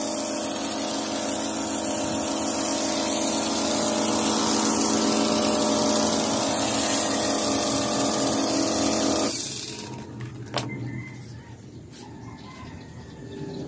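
Foaming machine pump running with a shampoo premix, a loud steady mechanical drone with liquid hiss that cuts off sharply near the end, leaving quieter background clatter.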